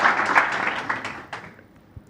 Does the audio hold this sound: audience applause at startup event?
yes